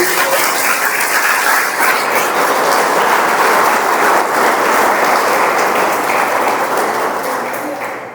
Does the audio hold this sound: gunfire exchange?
no